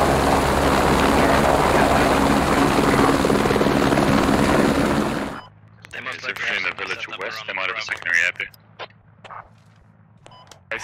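Helicopter in the military shooter game Squad during an amphibious assault, a loud steady rotor roar for about five seconds that cuts off abruptly, followed by radio chatter and short beeps.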